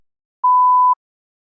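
A single steady electronic beep from a TOEFL practice test's speaking section, one clean mid-pitched tone lasting about half a second, loud against complete silence.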